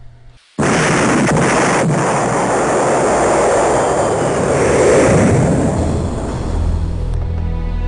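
In a cartoon, Apollo 13's oxygen tank number 2 explodes: after a brief quiet moment, a sudden, loud burst swells into a sustained, broad roaring rumble that slowly fades out.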